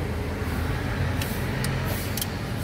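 Noisy engine of a 2004 Ford Everest running steadily with a rough, loud rumble, a few faint ticking clicks above it, heard close with no talking.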